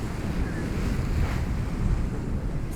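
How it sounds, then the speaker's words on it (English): Strong wind roars and waves surge steadily around a sailboat crossing Baffin Bay, a dense, close, unbroken rush of wind buffeting the microphone and water sloshing loudly throughout, with no voices. "Windy now, we're starting to be overpowered."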